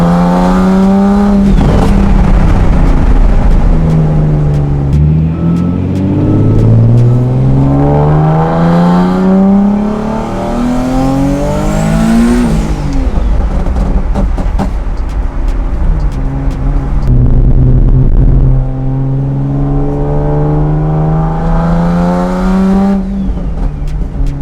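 A twin-turbo VR-engined Nissan coupe built into a 400Z revs and accelerates hard through several gears, engine pitch sweeping up and dropping at each shift, loud and close with turbo whoosh, no voices.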